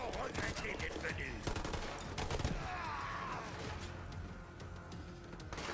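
Dense gunfire in the shooter game Borderlands 3, with rapid automatic bursts and heavy crashing blasts layered over continuous combat noise, loud and close throughout.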